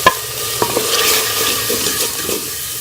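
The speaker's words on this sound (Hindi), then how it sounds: "इसको 5 से 10 मिनट में अच्छी तरह से मसाले को भून लूँगी" Masala spices frying in a pan with tomato and green chili paste for a saag dish, a steady close sizzle with a few sharp stirring scrapes and clinks, no talking.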